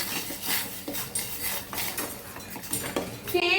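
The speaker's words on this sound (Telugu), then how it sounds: "ఈ గరిటెని యూజ్ చేస్తున్నాను" Ladle stirring java porridge in a cooking pot, with repeated soft scraping and clinking strokes against the metal in an irregular rhythm, close and fairly quiet.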